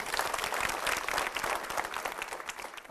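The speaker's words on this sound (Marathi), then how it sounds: "चला या दोघींनाही आपण टाळ्या वाजवून शुभेच्छा देऊ" Studio audience on a Marathi game show clapping to wish two women well, a loud dense burst of applause that holds steady throughout.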